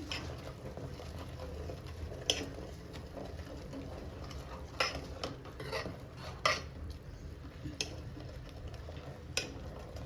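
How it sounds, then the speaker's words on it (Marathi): Gram flour being whisked into boiling water for pithla, heard as faint scraping and clinking of a utensil against a pot, with scattered sharp taps over a low background rumble. "ह्याच्यामध्ये आपण बेसन असं हटवून घ्यायचंय थोडं थोडं बेसन सोडून"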